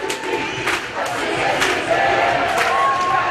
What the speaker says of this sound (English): And the crowd lets the Rams hear their support